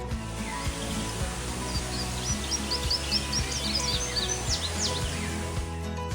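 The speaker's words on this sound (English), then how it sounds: "keep an eye and ear out for birdsong" Birds sing and chirp in the jungle canopy at Xcaret Park in Mexico, a run of quick high calls and trills over steady ambient noise and low rhythmic thumps, moderately distant.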